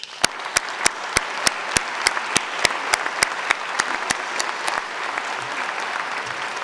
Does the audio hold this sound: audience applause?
yes